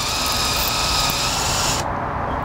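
A DeWalt 20V MAX XR cordless cable stripper strips 3/0 copper cable with a steady, loud, close motor whir that cuts off sharply near the end.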